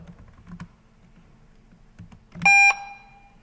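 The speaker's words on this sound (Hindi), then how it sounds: "ये एक बीप या साउंड जनरेट करता है" A single short electronic computer beep, triggered by typing the BEEP command, rings out loud and clear for about a quarter second after a few soft keyboard taps.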